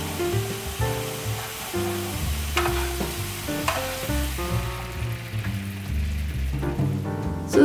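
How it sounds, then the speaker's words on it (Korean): Chicken stock sauce bubbles steadily as butter melts into it, a soft continuous sizzle and simmer under background music, for a pan sauce served with roasted flounder. "소스가 끓어오르면 버터를 넣고 완전히 녹여주세요"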